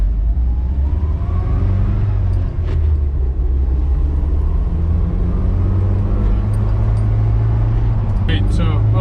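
A vehicle with a 7.3 engine runs nearby, giving a steady, deep, loud rumble that holds unchanged throughout, with a brief voice over it.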